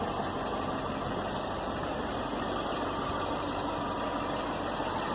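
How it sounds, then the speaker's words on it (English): A 2019 BMW X7 xDrive50i with a 4-liter V8 and its exhaust system, idling in a steady, even, continuous rumble heard close up, with no talking. "You got the exhaust system to it. This is the 4-liter V8."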